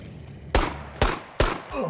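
Three sharp video game gunshots fire in quick succession, loud and close, followed by a brief groaning voice.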